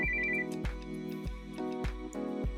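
Phone ringing after a call is dialed in the VXT calling app, a steady repeating electronic ring pattern in even pulses, moderately quiet with no voices.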